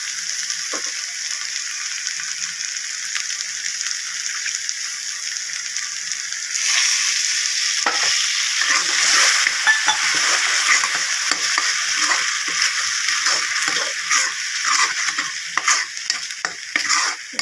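A pot of cucumber buttermilk curry bubbles and sizzles continuously on the stove, with occasional scraping and stirring sounds in the second half.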